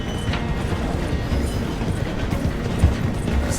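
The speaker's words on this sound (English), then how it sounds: "The train is slowing down to go through the station." A steam train in Red Dead Redemption 2 slowing through a station, a steady rolling rumble of wheels and carriages with faint mechanical clanks, close and continuous with no voices.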